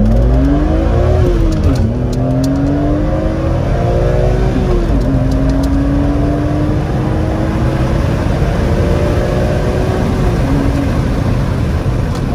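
A BMW Z M car with a six-speed manual accelerates hard through several gears, its engine note climbing and dropping at each shift in a loud, continuous run heard from close by.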